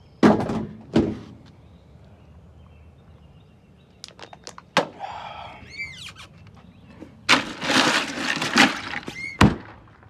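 Access door of a home air conditioner unit being put back on outside, with several sharp metallic thunks and clunks spread over about ten seconds, including a cluster near the end, alongside faint birdsong in the background.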